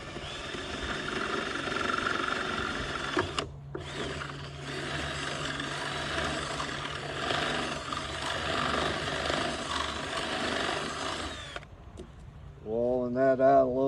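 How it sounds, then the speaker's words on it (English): A power drill whirs steadily for several seconds, briefly stopping and restarting, with a grinding mechanical tone that cuts off near the end. "It's easier to drill a hole with this than a Phillips head."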